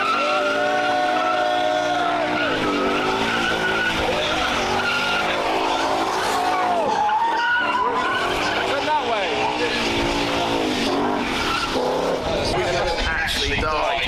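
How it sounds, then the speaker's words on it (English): A Ford Mustang does a burnout at a car show, its tires squealing and skidding continuously for a long stretch while the engine revs and roars nearby. A voice speaks over the noise. "we have a Mustang. He's going to make some black lines around"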